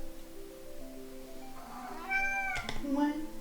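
A pet cat meows in a room during a desk setup, with a drawn-out rising call followed by a couple of sharper meows, close and clear, as a person talks over part of it.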